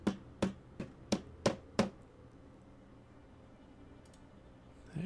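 Toilet being taken apart in the Project Zomboid survival game: six sharp, evenly spaced clicks or knocks in quick succession, then near silence, close and fairly quiet with no speech.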